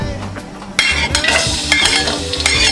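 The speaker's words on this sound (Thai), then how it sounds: "ผัดกระเทียม" Garlic stir-fried in a hot, oiled pan over medium heat while cooking basil shrimp, with a loud steady sizzle and the scrape of stirring utensil against the pan, no voices.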